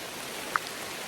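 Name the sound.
rain falling on the campsite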